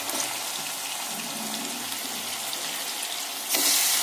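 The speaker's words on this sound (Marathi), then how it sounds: "आता याच्यात टाकूया आपण मटण।" Mutton pieces sizzling in a masala with a little water give a continuous, close sizzle and bubbling while being stirred, with a sudden louder hiss near the end as more goes into the pan.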